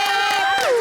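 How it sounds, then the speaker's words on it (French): A church audience cheers and applauds the pastor, a brief loud burst of crowd noise with whoops over sustained voices. "On applaudit pour l'homme de Dieu!"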